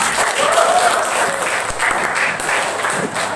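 Students in a classroom applaud a group of classmates after their presentation, a dense, steady patter of many hands that runs nearly evenly throughout.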